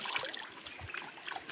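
Water trickles and splashes lightly over hands being washed outdoors, a short, steady running dribble with small splatters throughout.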